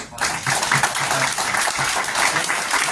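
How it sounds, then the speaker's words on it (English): An audience at an enterprise generative AI panel event claps for the panelists, a full burst of steady applause sustained throughout. "can we give them all a round of applause?"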